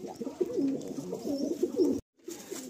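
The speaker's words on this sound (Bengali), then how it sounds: "এটা ফিমেল পায়রা" A black Madrasi pigeon, a female, cooing in soft rolling phrases at close range, with a short silent break near the end before the cooing resumes.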